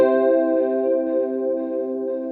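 Free The Tone Future Factory modulation delay pedal with added grit, sustaining a steady distorted guitar tone with chorus-like shimmer and repeating echoes, held evenly throughout without a break.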